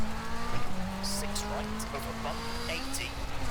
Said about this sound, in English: A little bit of handbrake.